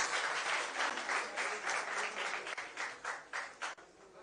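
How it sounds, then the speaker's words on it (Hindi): An audience at a Rajasthan news event claps loudly and steadily, a dense burst of applause that thins toward the end into a few scattered claps. "और एक बार उनकी जोरदार ताली बजाइए उनके लिए।"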